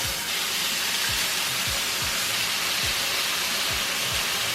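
Six bacon slices fry in a pan on the stove, giving a steady, dense sizzling hiss that runs unbroken, with faint low ticks and no one talking.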